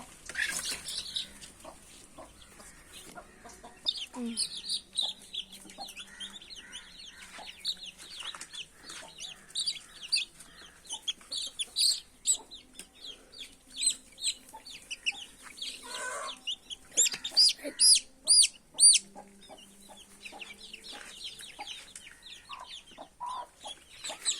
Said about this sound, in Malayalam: അപ്പൊ കോഴിക്കുട്ടികൾ നല്ല ഞെട്ടി നിൽക്കണതാണ്